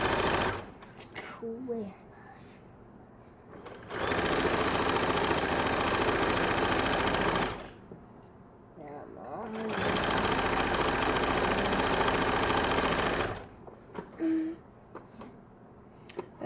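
A sewing machine hems the full skirt of a toddler-size dress in two long bursts of steady whirring, with brief pauses and a few spoken words between runs.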